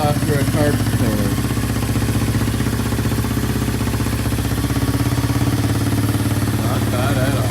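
A 1987 Honda TRX200SX ATV idles with a steady, close, loud single-cylinder putter and faint clatter after its carburetor cleaning, while a voice talks over it.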